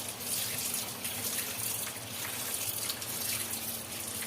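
Aloe vera is rinsed under a running tap to wash off its slime, a steady gushing splash of water into a sink that continues without pause.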